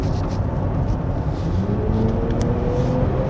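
A Genesis GV60 Performance AWD electric SUV plays its synthetic virtual gear engine sound, a steady close hum with a rising tone under road rumble during a drive on a winding mountain road.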